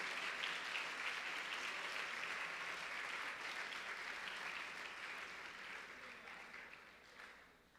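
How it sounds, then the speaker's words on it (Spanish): A church congregation applauds during a sermon, a steady roomful of clapping that holds evenly and then gradually fades toward the end, fairly soft and without talk. "démosle un aplauso al Señor, que es bueno"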